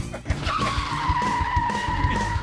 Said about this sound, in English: You got nothing but car crashes.